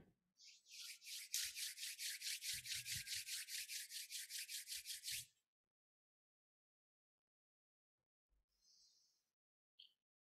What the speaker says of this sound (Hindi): दोनों हथेली को आपस में रब करें